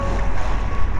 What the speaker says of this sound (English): Underneath these waves, the roaring of the waves, there is a peaceful life underneath